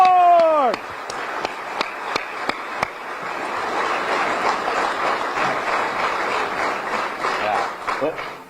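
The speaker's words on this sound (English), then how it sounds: "Let's give him a round of applause, baby." A basketball arena crowd breaks into loud applause and cheering for Darren Ford after a few sharp claps, sustaining a dense roar of clapping and shouts for several seconds.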